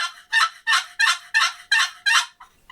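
A cedar wood turkey call working a raspy yelp, a run of seven loud, hoarse notes in even rhythm, trailing off into a couple of fainter ones, heard close with no talk.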